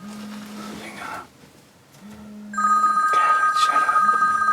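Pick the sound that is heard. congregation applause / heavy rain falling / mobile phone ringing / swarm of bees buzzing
mobile phone ringing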